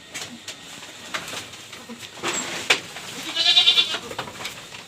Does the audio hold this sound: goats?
yes